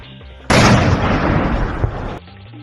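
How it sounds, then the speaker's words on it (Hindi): A bomb disposal squad sets off a controlled blast of an IED beside the Baramulla–Handwara highway, heard as a sudden loud boom and a sustained roaring rumble for nearly two seconds that then cuts off. "फिर इस तरह आईईडी को ब्लास्ट कर आतंकी साजिश को नाकाम कर दिया गया।"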